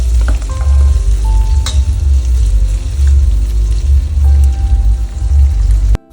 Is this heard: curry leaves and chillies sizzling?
yes